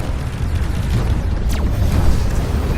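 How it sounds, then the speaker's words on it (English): Missile volley striking enemy ships in the space combat game Fractured Space, a loud continuous rumbling barrage of booms with a sweeping whoosh partway through. "we release some missiles there. You see the volley of missiles heading right toward them"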